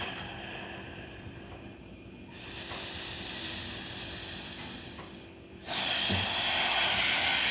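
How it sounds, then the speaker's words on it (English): Slow, deep breaths heard close up, a long inhale followed by a fuller, louder exhale, with no talking. "Breathing in"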